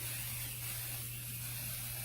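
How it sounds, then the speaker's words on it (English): A can of 505 spray adhesive mists lightly onto blanket fabric, giving a steady, close, even hiss that runs unbroken for the whole stretch with no talk over it. "I'm going to take my 505 spray, and I'm just going to mist this lightly"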